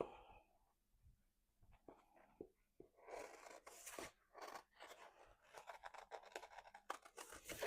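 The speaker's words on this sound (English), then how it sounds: "I want to do a circle. Let's cut this one." Scissors snip a rough circle out of inkjet-printed paper in quiet, close crisp cuts that quicken into a dense run of rasping snips toward the end, with no voices.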